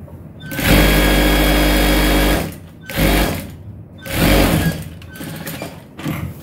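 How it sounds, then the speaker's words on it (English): Sewing machine stitching boxer shorts fabric in loud close bursts, a long run of about two seconds followed by several shorter stitching spurts, with no talk. "I'm just going to sew it straight down. Just stitch it upward, just like that."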